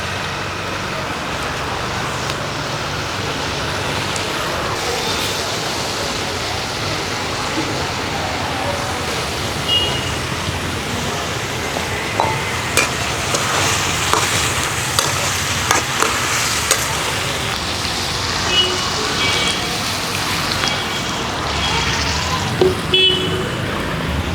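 Potatoes go into a hot pan and fry with a continuous low sizzle, under people talking, occasional stirring clinks and faint traffic with a car horn outside.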